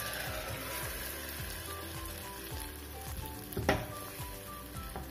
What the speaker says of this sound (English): As the pan is getting hot, just add this entire mixture inside it.